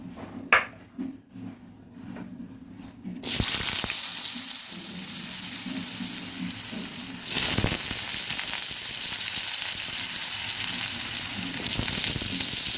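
Long strips of potato hit hot oil in a wok and burst into a loud, steady sizzle after a few quiet seconds of clatter, with a brief surge midway as more oil crackles; no talking.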